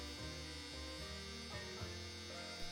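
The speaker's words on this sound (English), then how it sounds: "Damn dryer." A clothes dryer runs indoors with a low, steady mechanical hum and buzz that shifts in pitch as it turns, faint and continuous with no talk over it.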